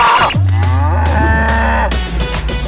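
A cow held for an injection lets out a loud, close, drawn-out moo that falls in pitch, followed by a shorter second call.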